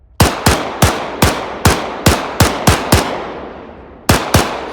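Loud single shots ring out one at a time in IFA3, the Arma 3 mod, about a dozen sharp reports spaced roughly every third of a second, each with a short decaying tail, then a brief pause before two more.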